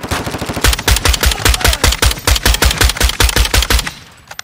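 Rapid automatic gunfire from a gun in Modern Warfare 2, a loud, evenly spaced burst of about twenty shots that cuts off near the end.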